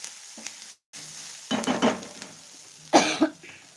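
Chopped onion frying in oil in a pan for a quick onion chutney, sizzling in short bursts with stirring scrapes, close and moderately loud, with brief pauses between.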